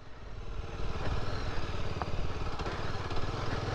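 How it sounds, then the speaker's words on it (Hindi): Scrambler motorcycle engine running close by, a steady low thumping putter with quick even pulses and a brief clatter, moderately quiet. "चलो जी अभी स्क्रैम्बलर को चलाते हैं भाई"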